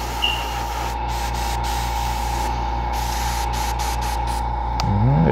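Spray primer hissing steadily from a can onto a BattleTech miniature, a continuous close, even spray held for several seconds over a faint background hum.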